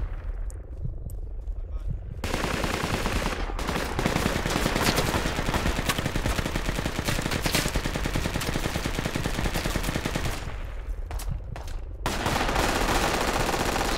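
Heavy, near-continuous automatic gunfire fills a Project Reality battle, loud and close with overlapping bursts, easing only briefly at the start and near the end, while players talk over it.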